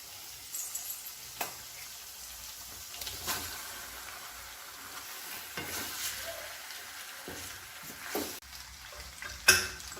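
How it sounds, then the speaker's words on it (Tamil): Pasta sizzles in sauce in a pan, a soft frying hiss broken by several sharper scraping strokes as it is stirred, close by with no talking. "நல்லா மிக்ஸ் பண்ணி விட்டுட்டு இப்போ பாஸ்தாவை உள்ளே கொட்டிடலாம்."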